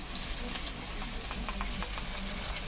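Spices frying in a pan for a village-style Shillong fish curry, giving a steady close sizzle with a few light stirring scrapes and no voices.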